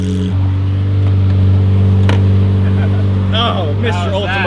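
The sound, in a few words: Lamborghini engine revving loudly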